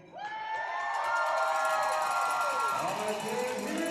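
Arena crowd cheering at a Blue Ridge Bobcats versus Danbury Hat Tricks hockey game inside Hitachi Energy Arena: a loud sustained roar of voices with rising and falling whoops and whistles, swelling in quickly and holding steady.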